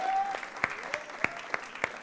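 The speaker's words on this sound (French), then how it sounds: "est-ce que Momentum Jeunesse, on peut applaudir toutes les églises qui nous rejoignent?" Scattered, fairly regular handclaps from a church youth gathering, Momentum Jeunesse, welcoming visiting congregations; a few sharp claps spaced evenly over a soft background tone.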